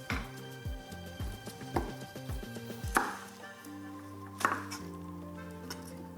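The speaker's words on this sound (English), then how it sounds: "An onion that I want to slice" An onion is sliced with a knife on a chopping board while making salmon curry, a quick run of close, crisp chops followed by a few sharper knocks and clinks.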